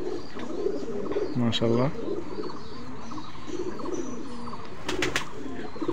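A Benaras and Chot crossbreed pigeon gives soft rolling coos, with other pigeons cooing nearby and a voice speaking briefly over the birds.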